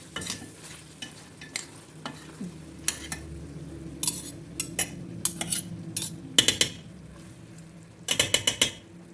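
Beef sautéing in butter in a pan, a soft steady sizzle underneath repeated sharp clinks and scrapes of a utensil stirring against the metal, the clatters coming in irregular bursts.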